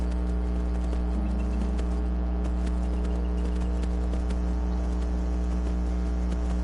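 Horse hooves clip-clop steadily in Skyrim over a constant low game hum, with faint bird calls in the background and no talking.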